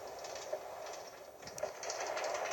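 A train rolls along rails in the video game Craftland, a steady rumbling clatter with faint rhythmic clicks, continuous and fairly close, with no talk over it.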